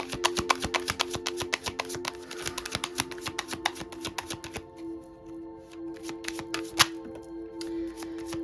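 Tarot cards being shuffled by hand, a rapid run of crisp riffling flicks that later slows into softer, sparser slides, close and clear with a faint steady hum underneath and no speech.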